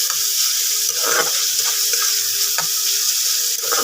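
Rui fish kalia with grated garlic and ginger being stirred in a hot pan, giving a steady loud sizzle with scraping stirs throughout.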